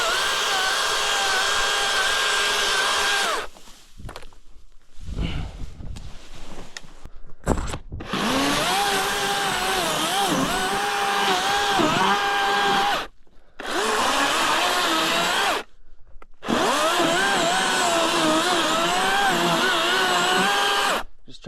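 Chainsaw buzzing steadily while clearing brush close to the ground along a fence line in the Black Hills, the high whine broken by short pauses and restarts as cuts finish.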